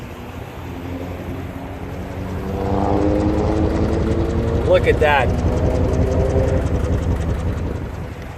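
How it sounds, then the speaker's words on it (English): A car engine runs with a deep, steady exhaust rumble that swells slightly in loudness partway through, while a person speaks briefly. "Listen to this engine."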